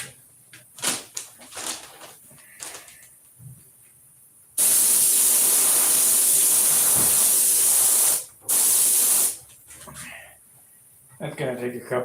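Spray paint hisses from an aerosol can in one long, loud, close burst of several seconds and then a short second spray, with light handling clicks and knocks before and after.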